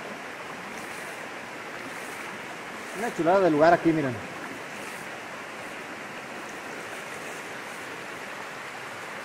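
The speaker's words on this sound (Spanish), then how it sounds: "Miren cómo viene el agua." River water rushes over a waterfall and through the current in a constant broad roar, with someone speaking briefly over it near the middle.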